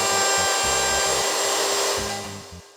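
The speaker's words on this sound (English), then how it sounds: "Here I'm routing out about 2 or 3 millimeters of wood in order to accept a reinforcement plate I made out of steel." A router cuts into a wooden mid-century lamp base, routing a shallow recess a few millimetres deep. It gives a loud, steady high whine broken by short, rougher cutting bursts as the bit bites the wood.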